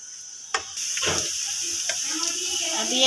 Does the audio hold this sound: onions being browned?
yes